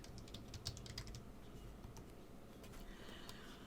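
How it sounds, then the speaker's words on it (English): Quiet, close typing on a computer keyboard, a short run of light key clicks followed by a few scattered taps, with no talk. "let's just type in leather"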